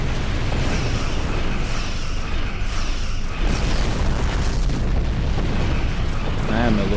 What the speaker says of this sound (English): Green torpedoes.